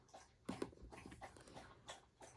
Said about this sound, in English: My dog's drinking in the background